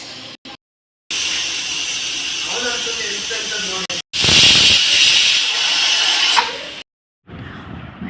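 A pressure cooker of white rice vents steam on a kitchen stove in a loud, sustained hiss that stops and restarts, with voices heard between the bursts.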